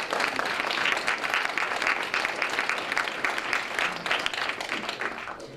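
An audience applauding to welcome a speaker to a talk, a dense, even wash of clapping that holds steady for several seconds and then starts to taper off.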